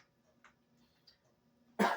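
A single sharp cough bursts out near the end in a quiet kitchen where apple pie is being made, loud and close after a near-silent stretch with faint ticking.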